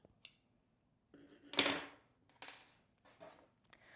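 Scissors snip through knitting yarn on a knitted pumpkin, giving one crisp, close cut among a few quiet handling rustles in a quiet room.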